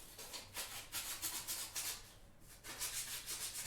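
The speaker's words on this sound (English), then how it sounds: "Start sanding down the edges here." Steady back-and-forth sanding strokes rub against the edges of a wooden backsaw handle, about a dozen rhythmic passes close up with a brief pause near the middle.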